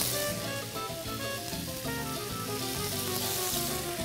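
Onion and tomato sizzle in a hot pan, a dense continuous frying hiss that holds steady and loud throughout, with no talk.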